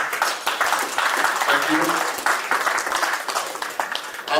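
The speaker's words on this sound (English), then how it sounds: "Let's clap for Bafumanjong." An audience at a charity gala applauds steadily for Bafumanjong, a dense, sustained round of clapping that runs throughout, with a voice briefly speaking over it.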